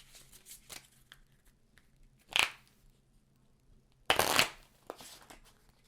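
A deck of cards for the Canopy board game is shuffled in a quiet room, with two distinct riffling bursts near the start and later a louder riffle amid faint rustles.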